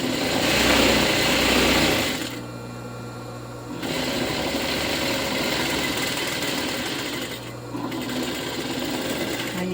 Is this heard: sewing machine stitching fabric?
yes